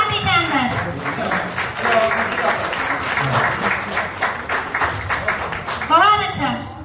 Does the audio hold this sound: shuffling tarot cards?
no